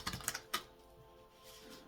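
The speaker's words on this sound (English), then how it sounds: "I shuffle by threes and then cut" Crystal-themed card deck being shuffled, a quick run of soft papery riffles and taps up close, then a quiet pause.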